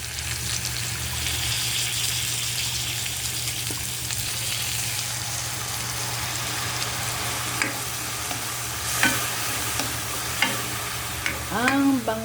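Onions sautéing in a pan with fish sauce give a steady, close sizzle and frying hiss, with stirring scrapes and clinks growing busier toward the end.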